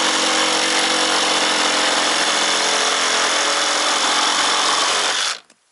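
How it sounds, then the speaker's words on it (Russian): A jigsaw cuts through an assembled wooden tabletop, a loud, steady, close buzzing that runs continuously for about five seconds and then abruptly stops. "Теперь просто как лобзиком отрезаем."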